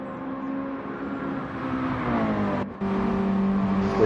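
A race car in a racing video game pulls out of the pits, its engine droning steadily with a rising whine, briefly dropping out before surging back louder as it accelerates away.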